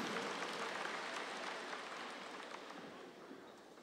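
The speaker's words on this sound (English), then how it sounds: "Can you please clap your hands one time for them" An audience at a ministers' conference claps for singers, a steady wash of applause that starts full and slowly fades, with no talking.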